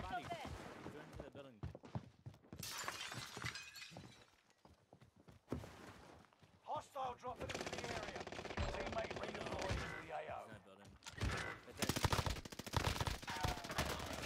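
Gunfire in a shooter video game, bursts of rapid automatic shots and single cracks mixed with game effects, with a player talking over parts of it.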